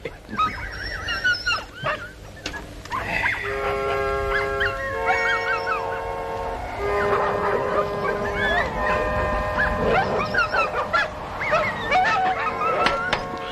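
Several dogs at night produce overlapping howls, whines and yelps, rising into a sustained chorus of pitched cries, fairly near and loud, with no talk.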